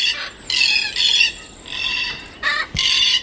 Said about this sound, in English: Popat.